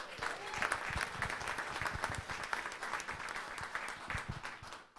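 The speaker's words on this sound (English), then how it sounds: "Can we just give them a round of applause?" Audience applause for coffee sponsors at a small community business gathering, a steady crowd clapping for about five seconds that tapers off at the end.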